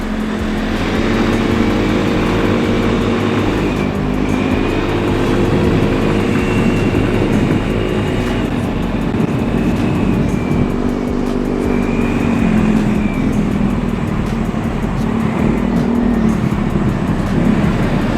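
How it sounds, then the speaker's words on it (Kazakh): Several 150cc mopeds ride together in a steady, loud engine drone that rises and falls slightly for the whole stretch, heard close up from among the group with no talking. "Қазірдің өзінде қаншама мопед болып келе жатырмыз мына жерде."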